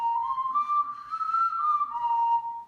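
A clay ocarina blown in one sustained, breathy tone that gently bends upward and back down, moderately soft, with no voices over it.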